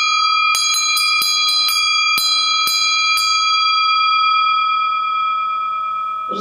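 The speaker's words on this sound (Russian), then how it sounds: "Представлен колокольный звон." A bright Orthodox church bell is struck repeatedly in a quick, uneven run of about ten strikes, then left to ring out in a long, clear fading tone.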